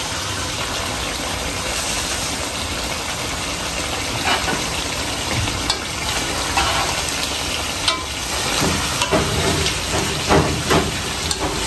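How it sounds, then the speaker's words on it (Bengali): Food fries in a hot pan with a steady, loud sizzling hiss, broken now and then by faint stirring clinks and scrapes. "রান্না চলছে"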